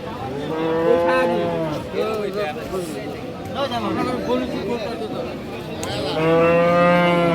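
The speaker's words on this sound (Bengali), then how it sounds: "এই পাশে কিন্তু দুধের কয়েকটা গরু আছে" Several Friesian dairy cows moo loudly and close by at a village cattle market, long drawn-out lowing calls at the start and end, with people chatting in the background between them.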